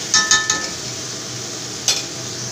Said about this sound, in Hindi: टमाटर प्याज अदरक लहसुन के साथ भूनना है।